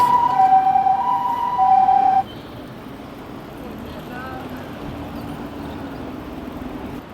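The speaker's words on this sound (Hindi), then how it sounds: "यहाँ पे जा रही है फिर से एम्बुलेंस।" A loud wailing ambulance siren sounds on a street in Japan for about two seconds, then cuts off, leaving steady street noise.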